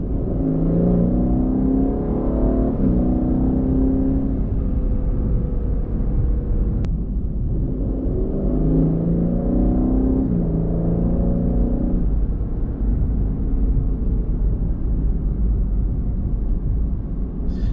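A 603-horsepower Aston Martin Vantage F1 Edition drives along at Châtelaillon, its engine note loud and steady with rising revs that climb and fall in two clear surges, no voices over it.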